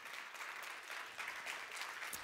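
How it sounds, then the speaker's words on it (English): An audience at a conference assembly claps steadily, a dense, even wash of applause from a crowd in a hall, fairly distant and moderate in level without gaps. "a big round of applause for the amazing women creating our future as well"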